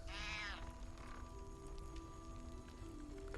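A cat in Baldur's Gate 3 gives a short, high, rising meow after being woken, followed by a faint second mew, over quiet game ambience.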